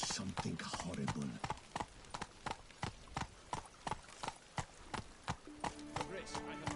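Roach the horse gallops in a video game, rapid rhythmic hoofbeats clip-clopping steadily throughout, with game speech and music layered underneath.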